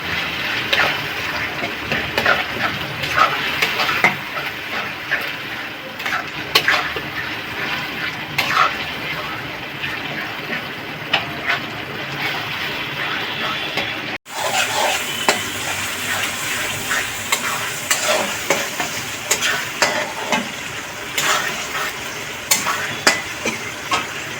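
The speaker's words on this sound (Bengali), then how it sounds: "ধনে ধনে আর জিরে ভিজিয়ে রেখেছিলাম গরম জলে সেটা দিয়ে দিলাম" Soaked coriander and cumin go into a hot pan for luchi and aloo dum, giving a steady close sizzle and frying hiss with stirring scrapes throughout, a brief gap midway, and faint talk in the background.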